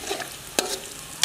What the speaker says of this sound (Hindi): इन सभी मिसालों को थोड़ी देर के लिए ऑयल में भून लेंगे।